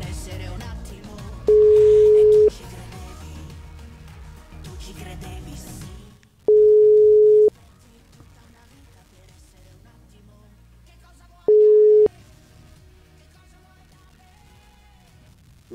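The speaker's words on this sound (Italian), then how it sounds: "cade la linea" An Italian broadcast's dropped phone line gives three evenly spaced busy-signal tones, each about a second long, loud and clean over faint studio background, with near silence between the last two.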